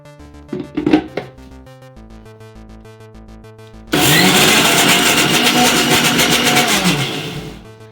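Mixer grinder whirring as it grinds cooled lentils in a jar, starting abruptly after a few soft clinks and running loud and steady for several seconds before cutting off.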